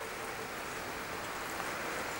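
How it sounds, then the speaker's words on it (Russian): Steady rain falls outdoors in a continuous, even hiss of drops on surfaces, with no voices and no breaks. "О, смотрите, как пошел дождик."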